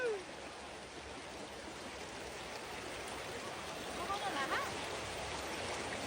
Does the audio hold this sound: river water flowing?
yes